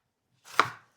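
A sharp knife cuts through a piece of vegetable on a board, giving a single crisp chop that rises quickly and trails off, close and fairly quiet with no talking.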